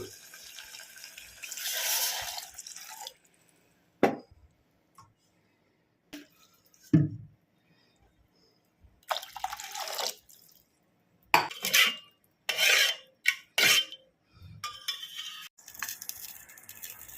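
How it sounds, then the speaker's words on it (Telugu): Water poured from a glass into a cooking pot, arriving in a few short splashing bursts separated by quiet gaps, close and moderately loud, with occasional clinks of utensils against the pot. "మనం వాటరు గ్లాసున్నర పోసుకోవాలి"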